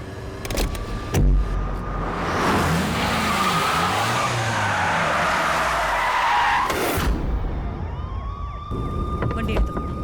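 A car pulls away fast with skidding, screeching tires during a police chase, the loud squeal and engine roar filling several seconds in the foreground, with siren-like tones nearby.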